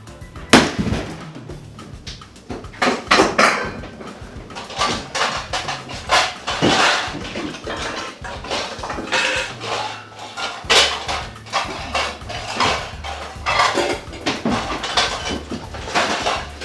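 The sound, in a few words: pots and pans being handled in a kitchen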